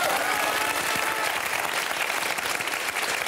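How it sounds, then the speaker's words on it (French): Loud studio audience applause on a French television show, dense steady clapping that fills the whole stretch with a faint crowd murmur underneath. "On l'applaudit très fort."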